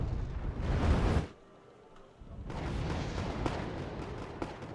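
Artillery fire in the Red Dragon wargame: heavy, rumbling barrages of distant explosions roll on continuously, break off for about a second, then resume as a dense, booming wash.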